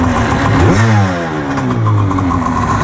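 A cheap jet ski fitted with an expensive DASA engine revs loudly and close, its pitch sweeping up sharply then settling into a steady, rough drone.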